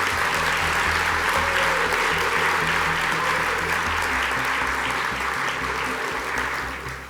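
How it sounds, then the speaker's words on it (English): Sustained applause from an audience at a university alumni awards celebration, dense clapping that fills the room evenly and begins to taper off in the final second. "Please give a big round of applause to all of our faculty"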